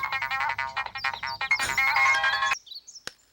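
A phone ringtone plays loudly and close by in a Tamil TV serial scene: a bright repeating melodic tune that stops abruptly, followed by a short quieter chime, with no talking over it.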